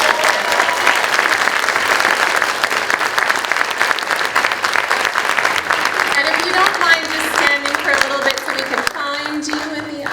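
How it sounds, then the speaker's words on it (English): A loud, dense round of applause from an audience at the Ánimo Voices Celebration 2024, continuous clapping filling the room, thinning toward the end as voices and cheers rise beneath it. "let's give them a round of applause"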